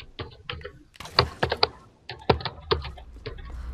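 Irregular clicks of typing on a computer keyboard, close and fairly quiet, coming in quick bursts with short pauses and no voices.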